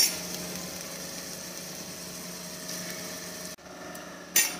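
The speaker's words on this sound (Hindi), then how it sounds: "फिर ये प्याज थोड़ा सा फ्राई हो गया है" Onion frying in a pan for paneer butter masala, a steady low sizzle that runs on with no talk, broken by a brief dip and a short clatter near the end.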